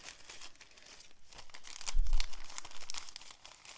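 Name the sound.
sticker sheet being put into a Ziploc bag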